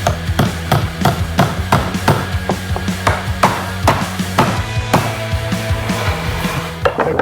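A lathe accessory is tapped through wood during work on an oak firepit lid: a steady run of sharp, close hammer blows at a brisk, even rhythm, loud and with no talk.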